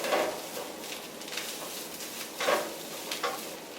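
Spinach cooking in a pan on a low stove is stirred, giving soft scraping swishes over a steady faint sizzle, with a few brighter strokes near the end.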